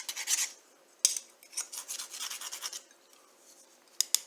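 The back edge of a butter knife scrapes double-stick tape residue off a grill emblem on a 2007 Toyota XV40, giving short, faint rasping strokes in bursts with brief pauses and a couple of sharp clicks.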